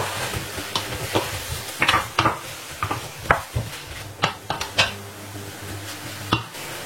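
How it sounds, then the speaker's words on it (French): Spoon stirring a sauce in a pan, a series of distinct scraping knocks against the metal at an uneven rhythm, close by, over a faint steady sizzle with no talking. "On mélange un peu."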